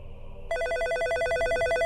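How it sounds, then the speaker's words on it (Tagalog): A telephone rings loud and close with a repeating electronic bell pattern, starting abruptly after a brief stretch of quieter background sound. "May tumatawag sa telepono."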